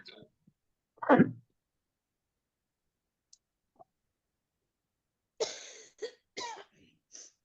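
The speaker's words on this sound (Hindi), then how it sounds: "कितनी खांसी आती है आप लोगों को" A single sharp cough breaks the quiet, followed after a pause by short bursts of nearby talking.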